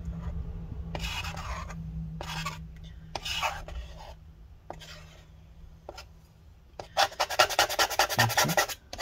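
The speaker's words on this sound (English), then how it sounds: "we're gonna go on this side now and scrape up this adhesive residue" Scraping adhesive residue inside a 15-inch mid-2015 Retina MacBook Pro A1398 during a battery replacement: repeated short rasping strokes in bursts, close and fairly quiet, ending in a faster run of rapid scrapes.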